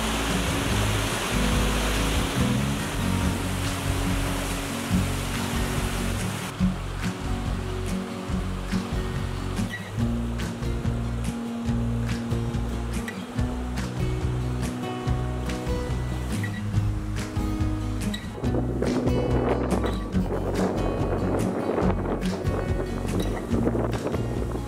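Strong wind blows over open water near a sheltered bay, a continuous loud rushing roar buffeting the microphone with heavy low rumble, steady for the whole stretch.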